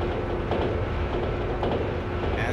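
A Sobu Line commuter train runs in the Densha de Go Final railway game, giving a steady rolling rumble with repeated rhythmic wheel clicks over rail joints, no voices.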